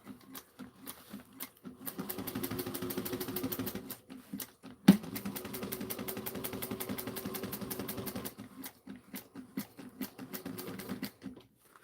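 A sewing machine back stitches a Miranda tote bag in two long bursts of rapid, even needle clatter, separated by a short pause with a single sharp click.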